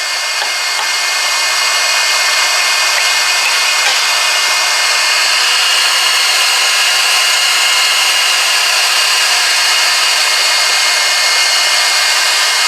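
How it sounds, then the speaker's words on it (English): A heat gun blows steadily while it strips polyester paint off a guitar body, a loud, close, unbroken airy whine that holds the same pitch for the whole stretch with no voices. "We're going to heat it up with our heat gun."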